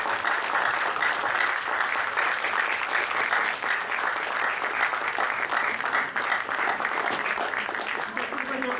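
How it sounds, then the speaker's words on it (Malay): Graduates at a Faculty of Education graduation day giving faculty lecturers and staff a standing ovation: loud, thick, continuous clapping that holds evenly throughout with no pauses. "marilah kita berdiri dan kita berikan tepukan yang sangat gemuruh kepada semua pensyarah dan kaki tangan fakulti kita"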